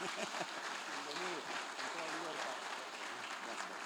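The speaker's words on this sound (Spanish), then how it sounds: "Dele un fuerte aplauso al Señor." Church congregation applauding steadily throughout, a dense, even wash of clapping with voices talking and calling out underneath.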